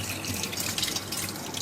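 Tap water runs steadily at a kitchen sink during the cleaning of mumbar casings, a soft continuous hiss and splash, fairly quiet and alone.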